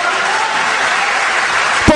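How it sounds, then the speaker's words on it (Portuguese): A church congregation applauds missionaries with dense, steady clapping that fills the room evenly, ending in a brief sharp knock at the close. "Aplauda Jesus por eles."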